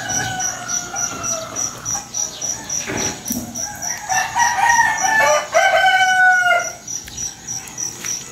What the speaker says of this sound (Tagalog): Talagang nangigising na yung mga manok.